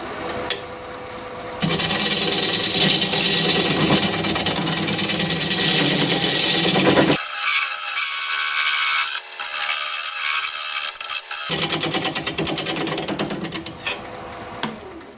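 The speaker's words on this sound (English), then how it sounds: "I'm going to switch to this scraper, see if I can kind of round this opening here a little bit" Wood lathe turning a fancy pedestal while a scraper rounds its opening: a steady, loud scraping and whirring that runs nearly throughout, dropping in its lower tones for a few seconds in the middle before returning.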